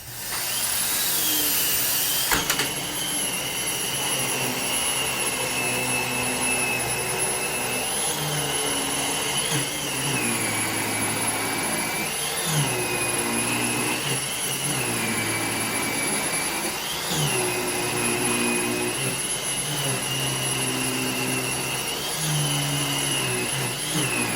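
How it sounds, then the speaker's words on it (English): A Dyson DC-15 upright vacuum cleaner runs steadily throughout, a loud continuous motor whine with slight pitch wavers as it picks up leftover debris, with no talking. "So I just picked up what was remaining with my Dyson DC-15."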